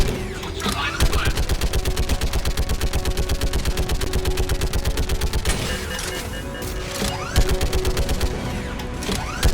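Rapid automatic gunfire in the video game Mass Effect 3, dense loud bursts with short pauses, with combat shouts from characters over it.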